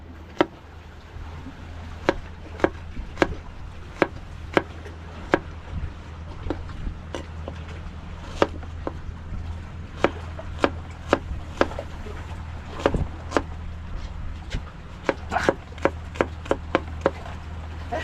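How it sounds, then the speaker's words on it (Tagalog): A knife chopping onions on a wooden board in an outdoor home kitchen, a run of sharp, distinct cuts at an uneven pace, some in quick bursts, over a low steady hum, with no talking. "maghiwa-hiwa tayo ng sibuyas."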